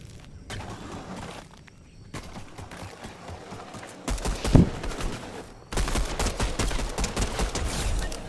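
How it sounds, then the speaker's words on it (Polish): Pistol gunfire in the battle royale video game Fortnite: a few sharp shots cut through loud game ambience, with one strong crack standing out in the middle and dense noise before and after. "Zabiłem go z pistola."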